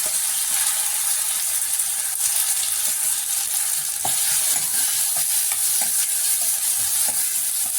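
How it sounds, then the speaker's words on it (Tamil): Ginger garlic paste sautés in a pan with a loud, continuous close-up sizzle and hiss, faint spatula scrapes and taps scattered throughout, with no voices. "இஞ்சி பூண்டு பேஸ்ட்டு பச்சை வாசம் போகிற வரை வதக்கிட்டு"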